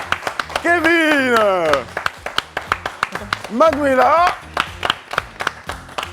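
French holiday talk show with a studio audience clapping for presenters; a steady patter of applause runs throughout, loud and close, while a voice speaks over it.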